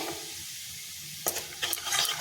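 Garlic frying in a pan for a chicken curry gives a steady quiet sizzle, then a few sharper stirring scrapes and crackles near the end, with no voices.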